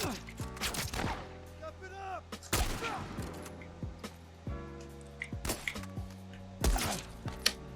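Gunfire in The Last of Us Part 1, several sharp broadband shots spaced irregularly across the stretch, a couple standing out louder, over a busy game mix with other impacts.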